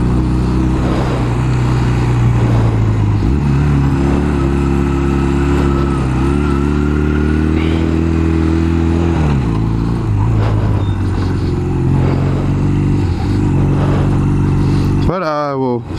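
A motorcycle engine runs loud and close, the revs rising and falling in repeated swells with a harsh throaty drone, while someone talks over it.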